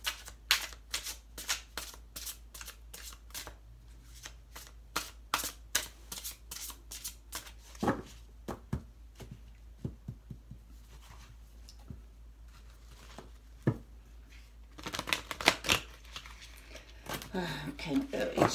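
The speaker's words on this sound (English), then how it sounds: "I can't really shuffle yet like I want to" Playing cards are shuffled in quick repeated riffles and taps, up close, with pauses between bursts and soft talking in the background.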